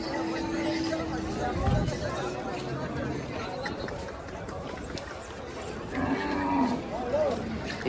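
Bulls low a few times at a cattle market in Deulgaon Raja amid a steady murmur of people chatting nearby, the moos rising briefly above the crowd noise.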